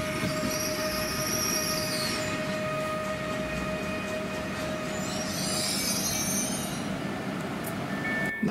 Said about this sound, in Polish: Na przystanek Tychy Żwaków wjeżdża kibelek linii S5.